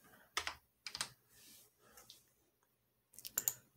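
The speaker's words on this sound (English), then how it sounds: "Listen to that keyboard." Typing on an old computer keyboard indoors: short bursts of clicky keystrokes, close and quiet, separated by brief pauses.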